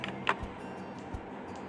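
Keys tapped on a computer keyboard while captcha text is entered, a few scattered soft clicks and a couple of duller thumps close by in a quiet room.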